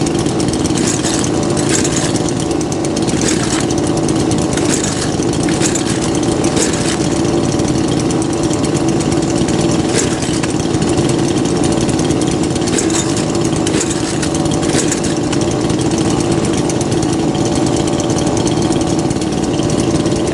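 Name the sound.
58cc chainsaw cold starting with choke and pull rope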